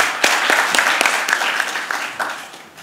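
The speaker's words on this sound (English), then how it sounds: "Big round of applause, ladies." An indoor audience at a product launch event gives lively applause, with sharp, close individual claps standing out over the general clapping, which gradually fades toward the end.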